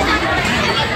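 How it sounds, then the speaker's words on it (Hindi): A packed crowd fills a newly opened restaurant and cafe with dense, loud overlapping chatter. Many voices blend into a continuous close babble over one short burst. "खाई पीने से मस्त एकदम खचाखच भीड़ है।"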